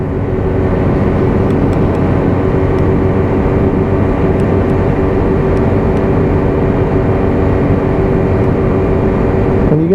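A Lexmoto LXS motorcycle ridden on a road, a loud, continuous engine drone with heavy wind rush across the whole stretch, holding steady without pauses or speech.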